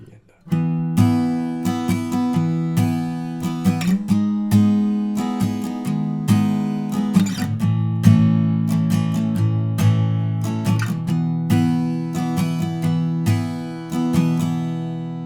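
Guitar chords of a song's verse progression, starting on E, are strummed in a steady rhythm, each strum ringing into the next, played alone and fairly loud for several bars.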